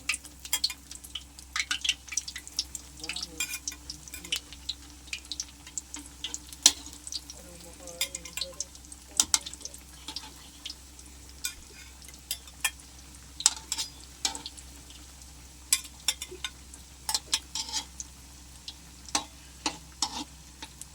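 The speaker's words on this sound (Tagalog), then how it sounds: "Yan, ganyan lang po ang nagpiprito niyan." Canned luncheon meat (maling) fries in a hot pan with a steady crackling sizzle and scattered sharp pops and spits, continuing throughout with no talking.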